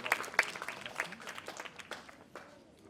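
A small crowd claps for a primary school teacher at the start of the school year, light scattered applause that thins out after a few seconds, with some voices mixed in.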